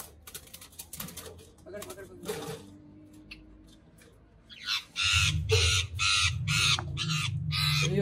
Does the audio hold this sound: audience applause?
no